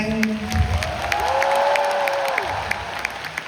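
A large concert crowd at AsiaWorld-Expo applauds during a live show. The clapping is dense and sustained throughout, with some scattered cheering rising above it.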